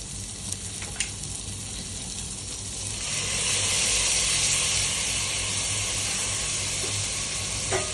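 Spice paste sizzling in hot oil alongside already-fried papaya and potatoes for a Bengali fish-head muri ghonto, a steady close hiss that swells louder after a few seconds and holds, with faint stirring clicks.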